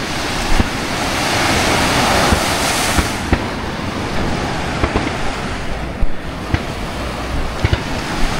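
Sea waves wash against a rocky shore with steady wind buffeting the microphone, a loud continuous roar with brief gusty bumps and no talk.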